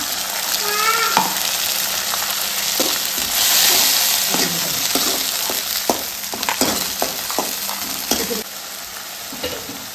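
Tempering of spices sizzling in hot oil for a yogurt-based bhaji kadhi, a loud close crackle with sharp popping bursts and stirring scrapes, some brief tonal squeaks early on, no speech.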